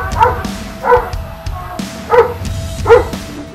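A big Doberman barks four times in an evenly spaced series, loud and close, with a quiet background between the barks.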